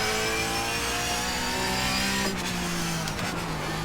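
A race car engine in a sim racing game revs hard while the car is held in third gear. The sustained, loud, close whine shifts pitch and drops near the end as the car brakes into a corner.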